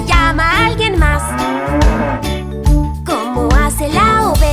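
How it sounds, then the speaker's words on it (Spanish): Moo-like tones in a Spanish children's song about a little cow, sung over steady bouncy music with chimes, the mooing phrase rising and falling loudly through the melody. "¿Cómo hace la vaquita? ¿Cómo hace al caminar? ¿Cómo hace cuando muge?"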